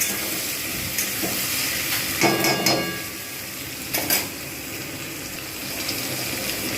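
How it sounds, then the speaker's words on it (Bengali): Tomatoes sizzle with fried potatoes and onions in a pan for a bhetki fish-bone chorchori, a steady close hiss with a few brief clatters of a utensil against the pan. "টমেটোগুলো যতক্ষণ পর্যন্ত না গলে যাচ্ছে আমি ততক্ষণ পর্যন্ত এটা ভালো করে কষবো"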